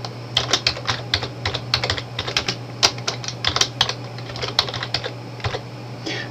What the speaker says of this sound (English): I'm just going to simply type Internet Explorer.